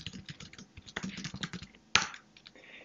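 Keys clatter on a computer keyboard in a short, quick burst of typing close by, ending with one sharper tap, and no one speaks.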